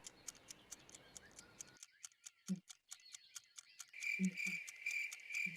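Rapid, regular cricket chirps pulse steadily and fairly close, first over a low rumble, then in quiet, joined by a louder, higher trill near the end.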